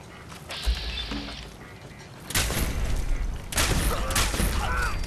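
Bursts of rapid automatic gunfire in the Fallout 4 video game, a short shot early then two loud sustained volleys of overlapping rounds, dense and close, with game sound effects between them.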